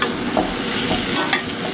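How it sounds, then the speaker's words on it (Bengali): Mixed vegetable charchari with fried fish and chopped onion being stirred in a hot pan, a close, loud continuous sizzle with scraping stirs throughout. "চরচুরি সবজিটা কষা দেবো মাছ ভাজিটাও দিয়ে দিছি চরচুরির মধ্যে"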